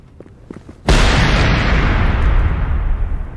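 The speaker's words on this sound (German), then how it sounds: "Wollen wir es in die Luft jagen da drin?" A grenade detonates in the video game Generation Zero, a sudden loud explosive boom that cuts through quieter sounds and then lingers as a long, heavy rumbling roar that slowly fades.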